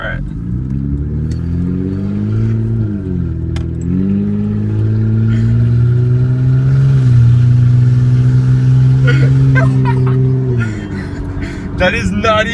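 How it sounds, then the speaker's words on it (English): Hyundai Sonata with a muffler delete and open header revving repeatedly in loud, rising and falling pulls, close by, with people talking over it. "we're open header right now, and we're probably gonna do some pulls right here after this car passes"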